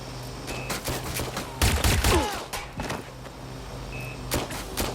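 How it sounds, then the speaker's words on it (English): Gunfire in the Watch Dogs: Legion video game, a burst of rapid shots with sharp impacts in the middle, surrounded by scattered single loud cracks over a low background hum. "Suspect has opened fire!"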